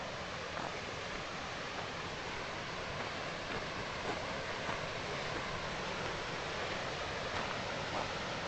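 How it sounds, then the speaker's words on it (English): Continuous broadband rushing of falling water, steady and unbroken, from a waterfall and creek heard nearby on the Lake Blanche trail. "Here's the waterfall"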